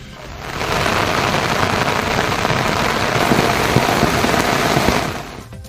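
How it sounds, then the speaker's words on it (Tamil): Heavy rain lashes down in Tiruvarur, Tamil Nadu, a loud dense downpour that rises in, roars steadily for several seconds with scattered pattering drops, then fades out, with no voices. "30 நிமிடங்களுக்கு மேலாக கனமழை பெய்தது"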